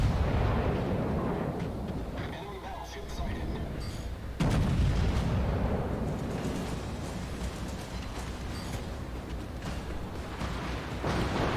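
A Monarch battleship in World of Warships takes shell hits: heavy artillery booms and crunching impacts, with one sharp, loud strike midway, set against a dense, rumbling roar of gunfire and battle noise.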